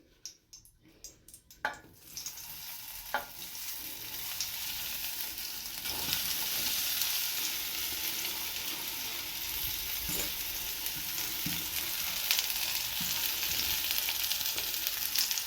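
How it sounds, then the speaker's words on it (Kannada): Paneer cubes shallow frying in ghee; after a few light clatters, a steady close sizzle settles in and holds, with occasional soft pops and stirring taps. "ಇದನ್ನು ಲೈಟಾಗಿ ಶಾಲೋ ಫ್ರೈ ಮಾಡ್ಕೋಣ"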